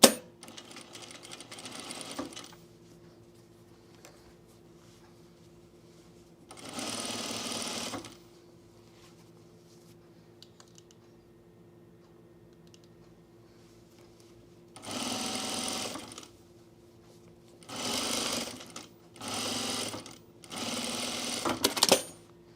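A sewing machine understitches a seam allowance to a knit pocket lining on a jumpsuit, running in several separate bursts of steady whirring stitches, close and moderately loud, with quiet pauses between runs.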